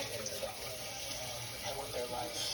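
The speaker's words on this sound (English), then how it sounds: "Wash my hands really quick." A kitchen tap runs steadily as hands are washed under it, making a continuous broadband hiss of flowing water at moderate distance with no clear pauses.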